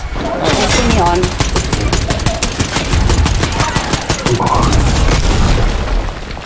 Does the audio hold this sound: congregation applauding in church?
no